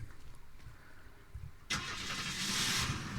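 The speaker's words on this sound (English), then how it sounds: "Easiest way, by the way, is to just take a car. Any car." A car engine cranks and catches in the game Unturned, a quiet stretch giving way to a sudden loud start that settles into a steady running hum.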